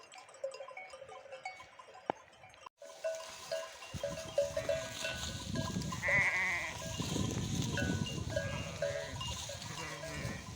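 Sheep of a flock bleat intermittently on pasture, a few calls rising over a steady background of animal and outdoor noise, with a faint bell-like clink.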